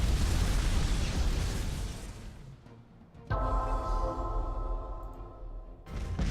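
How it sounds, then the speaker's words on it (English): Death rays firing on an enemy fleet in the Master of Orion space strategy game. A loud, roaring burst fades away, then gives way to a steady humming electronic beam tone before another blast cuts in at the end. "Begin the attack. Fire the death rays."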